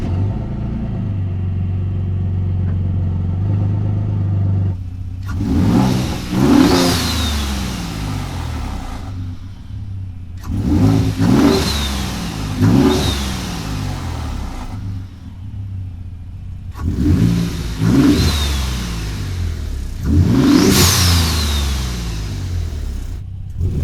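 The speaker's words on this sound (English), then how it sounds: "So we're gonna go take the truck out, and then we'll talk about some dyno numbers." 2020 Ford Raptor pickup truck with a blow-off valve, heard while driving: an idling rumble, then four loud bursts of revving, each ending in a short hiss as the valve vents.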